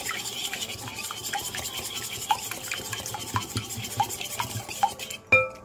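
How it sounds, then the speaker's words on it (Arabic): Tart batter being mixed with oil and milk in a bowl for an Italian lemon tart, a steady scraping and stirring rasp with little clinks of utensil against the bowl, close and continuous until a sharper knock at the end. "غادي نزيد الزيت، ونزيد الحليب، غادي نستمر في الخلط"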